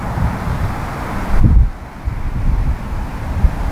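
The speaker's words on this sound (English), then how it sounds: "There's a bit of wind up there." Wind gusts across an open golf course, buffeting the microphone with a steady low rumble that swells loudly mid-way, then settles back to a continuous blustery roar.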